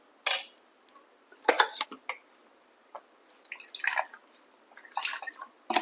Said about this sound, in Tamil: நான் கொஞ்சம் தண்ணி ஆட் பண்ணிக்கிறேன்.